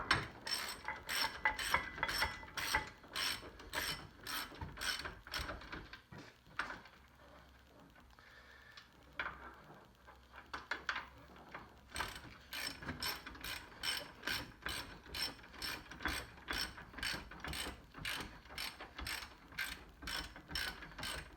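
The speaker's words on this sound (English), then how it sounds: "And you take your 15mm wrench" Ratchet wrench turning a bolt on a C6 Corvette rear brake, with fast repeated clicking bursts, a pause with quieter handling noise in the middle, then more steady ratcheting, close and clear.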